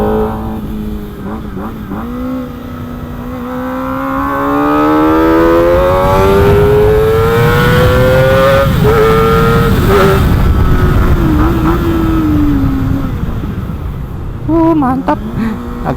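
A Kawasaki ZX25R 250cc motorcycle rides a lap, its high-revving four-cylinder engine climbing and shifting through rising and falling pitch sweeps, loud and close throughout with a brief lull near the end.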